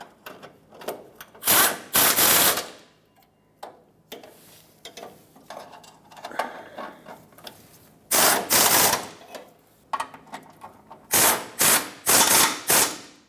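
Brake line fittings being snugged down on a 1995-2004 Toyota Tacoma during a proportioning valve replacement, close ratcheting wrench clicks in short bursts separated by pauses, loud and near.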